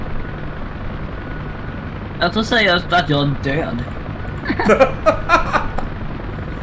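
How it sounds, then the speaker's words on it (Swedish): A UH-1 Huey helicopter in the DCS combat video game gives a steady low drone through the whole stretch, while someone talks and laughs over it. "Hoppa in i helikoptern"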